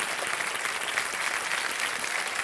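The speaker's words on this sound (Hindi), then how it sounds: "एक बार जोरदार तालियां बज जाए इनके लिए।" A studio audience at a TV quiz show claps in a loud, dense, steady round of applause that fills the whole moment with no pauses.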